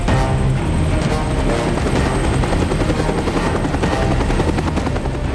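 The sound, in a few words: helicopter approaching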